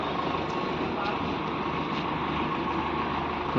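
John Deere 5045 tractor engine idling at a delivery from Gill Agro Morinda, a steady low diesel drone heard close and continuous at moderate level, with faint voices around it.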